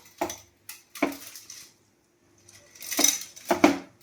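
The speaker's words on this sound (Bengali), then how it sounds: "এবারে এই যে কড়ার মধ্যে দিয়ে দেবো" Chowmein noodles go into a metal kadai, giving a few scattered clattering, clinking knocks of metal and utensils with short quiet gaps between them.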